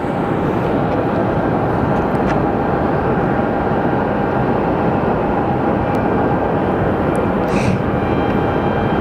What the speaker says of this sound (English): And as this plane pushes out,